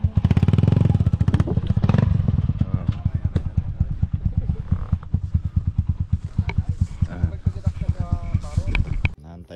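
A motorcycle engine, apparently a 450 or 250, runs close by with a steady throbbing, pulsing chug that holds for several seconds before cutting off near the end, with voices talking in the background.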